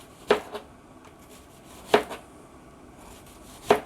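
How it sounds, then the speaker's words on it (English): Knife chopping an onion on a cutting board, three sharp, close chops spaced well apart with quiet between them. "So I gotta finish cutting this onion up over the camera"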